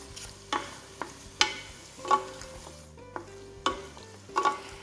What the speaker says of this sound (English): we wanna cook this for about 5 minutes on a lower heat, just to really cook the onions